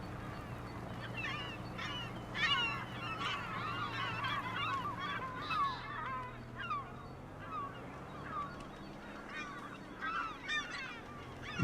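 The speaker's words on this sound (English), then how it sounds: "They're a nice addition, but they're just very loud. That's the only thing about seagulls." Loud seagulls calling in the Farming Simulator 25 video game, many overlapping honking squawks repeating steadily over a low ambient bed, with no talk.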